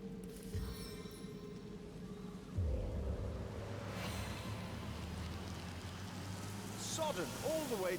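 Rain summoned by a rain scroll in the video game Divinity: Original Sin Enhanced Edition starts with a sudden soft whoosh and continues as a steady hiss of falling water under quiet game ambience.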